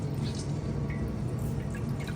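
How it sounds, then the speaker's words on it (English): Water running and dripping off a handful of squeezed blanched basil in a kitchen, a steady close wet trickle with no talk. "Now I'm squeezing all that water out."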